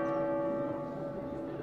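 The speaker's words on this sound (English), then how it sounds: "But the bells of the Loggia Tower chime to streets all but deserted." The bells of the Loggia Tower in Dubrovnik chime, a sustained ringing tone with a lingering hum carrying over otherwise quiet streets.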